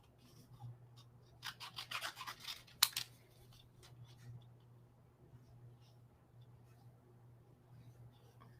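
Scissors snip paper for card making, a few quiet close crisp cuts clustered together and then trailing off into faint rustling, with a low steady hum underneath.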